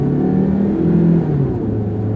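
A 2005 Proton Waja 1.6 engine revs up loudly and close, its steady tone rising and then easing back, with no talking.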